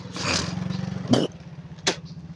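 Nearby motorcycles putter along a badly potholed, broken road shortcut, their engines pulsing steadily with a couple of sharp clunks as the bikes jolt over the holes.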